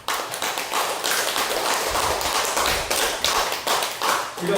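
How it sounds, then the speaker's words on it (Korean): A church audience applauds steadily, dense overlapping claps at close range holding for several seconds with no talk over them. "이거 박수 한번 보내주세요"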